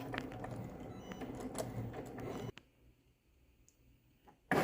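A cutting machine slices a design into material taped down on its mat, giving quick, busy clicking and ticking for about two and a half seconds before going quiet, then a sharp knock at the end.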